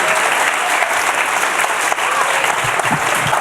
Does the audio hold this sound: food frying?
no